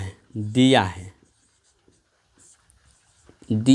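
Chalk or marker writing out a maths solution on a board in a trigonometry lesson, faint sparse taps and strokes in a quiet pause between bursts of a man's speech.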